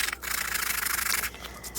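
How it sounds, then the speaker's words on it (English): Short, steady scratchy rubbing of a sanding tool roughing up paper edges on a Christmas tag, close and fairly quiet, with no talking. "Now I'm just taking my sanding tool and going around the edges just to rough the edges up"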